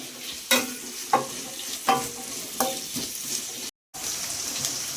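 Garlic chicken base frying in a pan until brown, a steady close sizzle with several sharp stirring scrapes at regular intervals and a brief cut to silence near the end.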